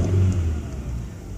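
A car engine revs with a low, rough idle, loud and close with a slight unevenness hinting at a misfire, and no talk over it.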